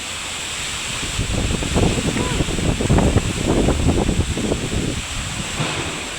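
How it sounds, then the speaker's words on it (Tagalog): Typhoon-strength wind in Romblon, Philippines roars steadily across the microphone, with gusty low rumbling that swells and fades throughout. "Lakas ng hangin."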